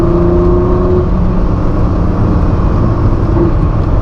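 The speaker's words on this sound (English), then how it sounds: "there she just gave me a little tweaky little downshift" Ford GT sports car engine driving on French village roads near Le Mans, a loud steady engine drone filling the clip with a slight throttle change near the end, heard close from inside the car.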